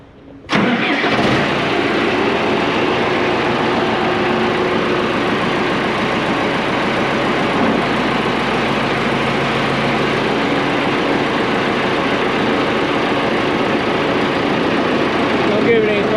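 A John Deere 455E crawler's engine cranks and fires at the start, then settles into a steady, loud, close idle that carries on unbroken, with people talking over it.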